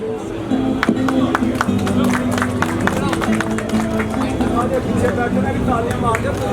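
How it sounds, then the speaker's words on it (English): Audience applause at a Pakistani community mela in Brooklyn, with dense clapping mixed into crowd murmur and background music throughout, loud and steady. "please give them a big round of applause"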